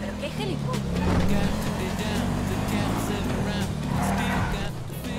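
A car engine revving and driving in Grand Theft Auto V, a continuous loud engine drone with shifting pitch as it speeds up, with someone talking over it.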